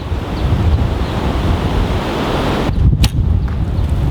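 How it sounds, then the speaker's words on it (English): Strong wind roars outdoors at an archery practice spot, loud, rumbling microphone buffeting with gusts throughout, and a brief sharp snap near the end. "man, I haven't shot in wind this strong in a long time"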